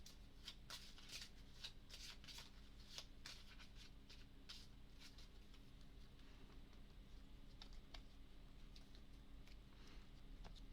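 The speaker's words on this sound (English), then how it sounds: "we'll shuffle those weaknesses back into the deck" Faint, rapid riffling and tapping as a deck of Arkham Horror game cards is shuffled by hand, continuing steadily in a quiet room with no talking.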